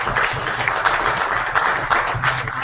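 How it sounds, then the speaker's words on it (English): A conference audience at the SME Corp. Conference 2014 applauds its speakers, a steady wash of many hands clapping close by, with a few louder claps standing out. "Please give them a round of applause"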